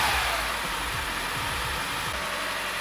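An engine on a barn-find car runs steadily, its pitch climbing and falling in a string of repeated revs, close and loud with no talk.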